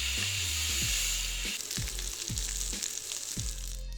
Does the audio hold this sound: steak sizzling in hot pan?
yes